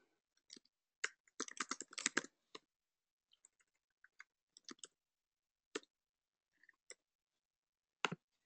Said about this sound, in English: So I'm typing quickly